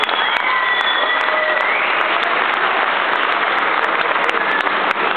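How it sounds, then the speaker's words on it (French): A crowd at a light-contact kickboxing gala applauds two young female fighters, a dense, loud wall of continuous clapping with a few raised voices threaded through it. "on s'applaudit très très fort ces deux jeunes filles"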